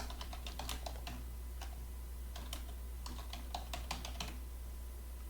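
Steady bursts of computer keyboard typing as a message is entered in a square-root calculator app, clicking in quick irregular runs close by over a low constant hum, with no talking.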